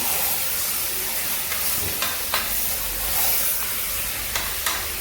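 Naati mutton curry bubbling and sizzling in a pot, with a steady hissing simmer and occasional soft clinks and pops, close and continuous with no talk.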